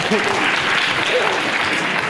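Applause from an audience at a debate on Western values fills the room as a continuous, even wash of clapping, loud and unbroken for two seconds, with a faint voice briefly audible beneath it.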